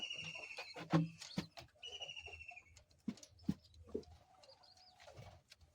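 Pigeons coo in soft, low rolling calls, several birds close by in a loft. Quiet chirps and rustles are mixed in, with brief gaps between the calls.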